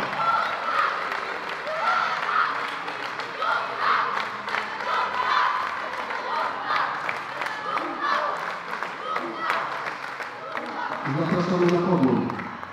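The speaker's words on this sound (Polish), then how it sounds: "Wielkie brawa." A crowd applauds and cheers at the award ceremony after a girls' youth Polish championship volleyball final in Bartoszyce. Steady clapping and shouting fill a large hall, swelling louder toward the end, with an announcer's voice over it.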